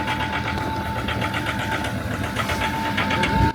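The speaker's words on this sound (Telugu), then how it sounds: "ఇంజిన్ సౌండ్ కూడా మారిపోయింది చూడండి." A Toyota Endeavour engine runs steadily just after a cold start in snow, a close, continuous mechanical drone with a faint rhythmic knocking through it.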